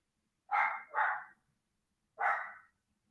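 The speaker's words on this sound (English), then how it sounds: "My dog's going crazy because my cousin just showed up." Indoors, a dog barks three times, two quick loud barks followed by a single bark after a short pause, each sharp and close against a quiet room.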